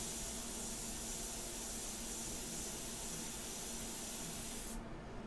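An airbrush sprays ink or paint in a continuous close, even hiss that holds steady throughout and dulls slightly just before the end, with no voices.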